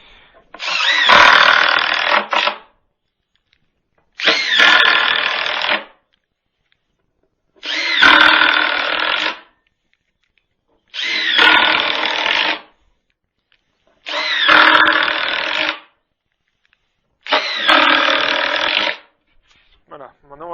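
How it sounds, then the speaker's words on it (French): Power drill driving screws into wooden planks while building a vertical garden planter, heard as six loud whirring bursts of about two seconds each, evenly spaced with short silences between. "Et je visse le reste."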